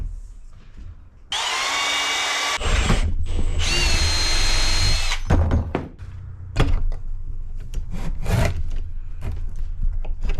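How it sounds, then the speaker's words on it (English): A power drill whines in two loud sustained bursts, drilling holes for M6 nut inserts while fitting Bronco fenders, followed by scattered knocks and rattles of tool handling nearby. "I'm going to drill these out so we can set those in"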